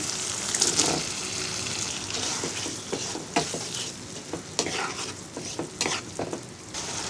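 One cup of chopped tomato goes into a frying spice paste for a loitta shutki bhuna, giving a steady sizzle broken by irregular scraping and stirring clatter in the pan, with no talking.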